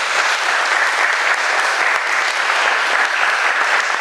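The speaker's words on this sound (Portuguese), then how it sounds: "Você pode dar uma salva de palmas para Jesus por causa disso?" A church congregation bursts into dense, loud, steady applause, a continuous roar of many hands clapping throughout.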